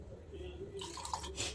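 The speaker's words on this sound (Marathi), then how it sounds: "2 वाट्या आणि परत अर्धी वाटी पाणी टाकते" Water is poured from a bowl into a cooking pot for a pea cutlet recipe, a close splashing gush that starts partway through over a quiet kitchen background.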